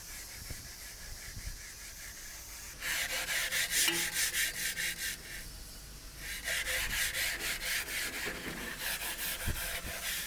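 Rough scraping of suet buildup inside the chimney stack of an offset smoker, a steady rhythmic rasping in two long bursts with a quiet pause between, fairly close and heard alone.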